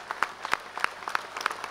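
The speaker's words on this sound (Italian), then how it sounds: "un applauso a tutte le donne" Applause for the women at a rally in Milan comes as a short burst of scattered hand claps from a crowd, fairly faint and uneven, lasting under two seconds.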